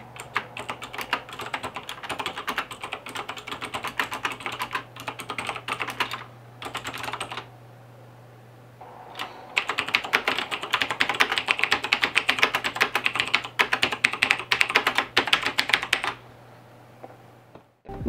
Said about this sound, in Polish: klawiatura jest już wyciszona